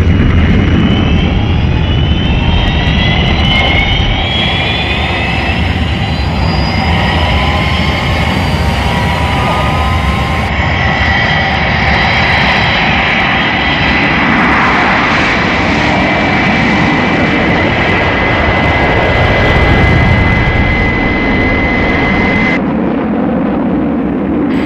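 Jet airliner engines roar at full takeoff power, a loud, sustained broadband blast with whining tones rising and shifting over the rumble, close and unbroken throughout.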